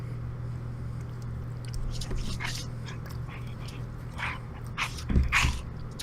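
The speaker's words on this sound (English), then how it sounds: "I'm babysitting my mom's dog." Buster, a dog being babysat indoors, snaps and mouths with short bursts of biting, panting and scuffling noises over a low steady hum, with a sharper clatter near the end.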